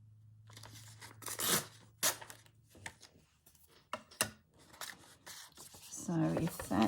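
Paper torn by hand for a junk journal, a few sharp ripping bursts between quieter handling, with someone talking over parts of it.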